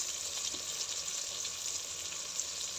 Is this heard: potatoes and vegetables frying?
yes